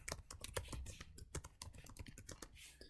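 Fingers type steadily on a computer keyboard, a quick, slightly uneven run of close key clicks and taps for three seconds, fairly quiet overall.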